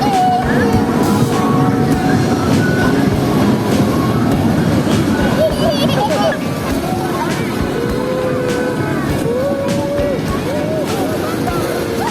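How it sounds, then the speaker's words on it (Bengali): A bug-shaped amusement ride train running at night in Comilla, giving a steady loud rumble and rattle of wheels with wind buffeting, while faint voices come through now and then. "এরপর আমরা চলে আসলাম এই পোকা ট্রেনটাতে ওঠার জন্য"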